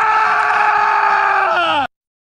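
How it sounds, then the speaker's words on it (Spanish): One long, loud, sustained scream holds a steady pitch for nearly two seconds, then cuts off abruptly into silence. "entonces oímos un grito."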